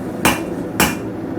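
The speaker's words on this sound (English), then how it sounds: "So when you're hammering flat stock like this" Two sharp, ringing hammer blows strike hot flat steel stock on an anvil while forging knife blade tongs, spaced about half a second apart, loud and close with short decays.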